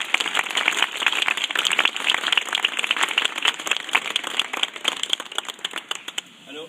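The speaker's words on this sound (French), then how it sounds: "Et donc je pense qu'on peut tous applaudir Fotini" An outdoor crowd in Brussels applauds artist Fotini at the unveiling of an LGBT street-art fresco. Dense, crisp clapping runs steadily for several seconds before tapering off at the end.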